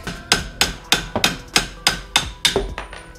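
A plastic hammer taps repeatedly on a shock absorber part of a Renault Clio 2 front left suspension, about nine quick, evenly spaced blows, close and clear with no talk.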